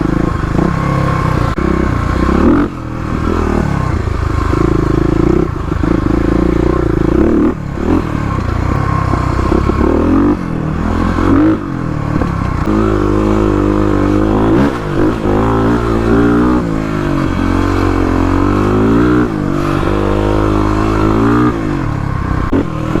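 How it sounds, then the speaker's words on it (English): A Stage 3 Kawasaki KLX351 dirt bike rides off-road OHV trails, its engine loud and close throughout, lugging low in the gears with repeated revving swells, throttle surges and clattering over rough ground. "KLX catching air, hitting some off-road trails."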